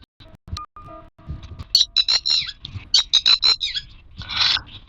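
Synthetic bird chirps from the Granny video game come in quick, bright bursts of tweets and calls, loud and close, with short pauses between the clusters.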